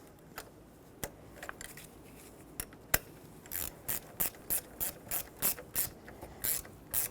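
A ratchet wrench snugging down the negative battery terminal clamp on a 2000-2005 Ford Excursion, first a few scattered clicks, then a quick rhythmic series of ratcheting bursts, close and clear with no talk.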